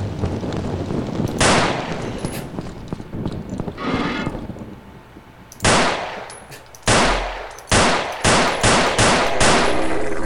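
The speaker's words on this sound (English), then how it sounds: "I guess you gotta shoot it." Loud gunshots from a weapon in the Afraid of Monsters horror game, first a few scattered shots and then a series of sharp, evenly spaced blasts with a ringing decay.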